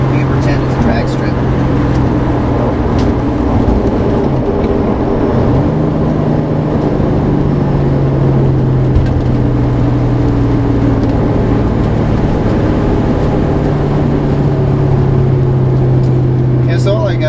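A 1995 Ford SVT Mustang Cobra V8 pulls hard on the Autobahn, its engine drone rising steadily in pitch through a gear change, loud and close from inside the car over road and wind noise.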